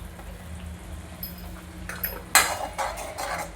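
A spoon stirs spices into matar paneer in a pan, giving light scrapes and metallic clinks that grow louder and busier toward the end.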